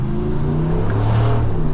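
The engine of a 2022 Ram 1500 Sport GT pickup truck gives a deep, steady rumbling drone, heard close and loud from the cabin with no talk over it.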